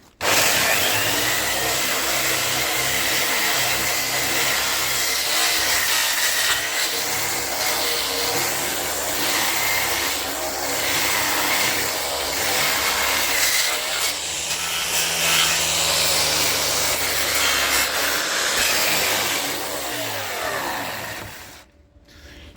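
A large 230 mm angle grinder strips an old table down to bare surface for painting, whining loud and steady for about twenty seconds with slight pitch shifts under load before cutting off abruptly at the end.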